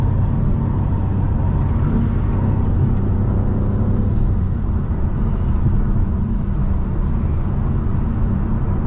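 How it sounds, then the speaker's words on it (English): A BMW M550i fitted with a Dinan throttle response booster accelerates on an interstate. Its deep engine and road rumble is loud, close and sustained, with no voices. "You hit the throttle, it just jumps."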